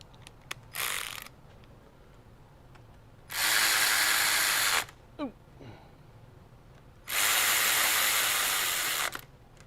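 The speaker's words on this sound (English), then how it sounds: "Now we can use our ratchet to run them in real quick." A ratchet runs bolts into the transmission of a 2010 VW CC, in two long bursts of rapid clicking that each last over a second, loud and close, separated by quieter handling noises and a steady low hum, with no talk.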